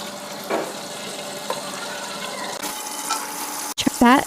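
Cooking oil, a full liter, pours into a pot for degi-style chana pulao, a soft liquid rush and sizzle running steadily, with a brief clatter and a few faint voices near the end.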